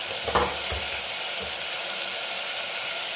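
Ragda being stirred with turmeric and salt in a pan over full flame, a constant close sizzle and hiss with a few soft scrapes of the spoon near the start.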